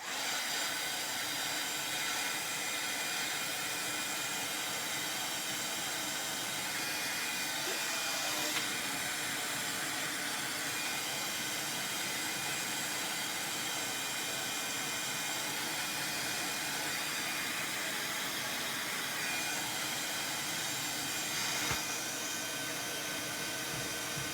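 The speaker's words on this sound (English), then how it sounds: "So I'm going to heat emboss it." A heat tool for embossing blows over embossing powder, giving a steady, even whirring hiss that runs unbroken from start to finish, close and alone.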